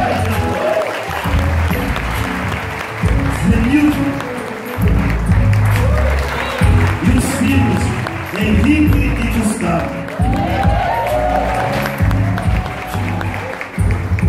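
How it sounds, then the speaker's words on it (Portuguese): A church congregation at an evangelical service applauds during a testimony, clapping running under someone speaking over a microphone throughout. "Vamos aplaudir."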